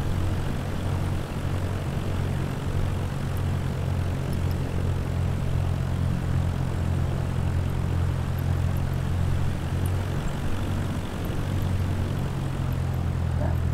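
Propeller airplane engines on a windy landing approach in Japan in Flight Simulator, a constant loud, low droning hum with steady tone throughout and no speech.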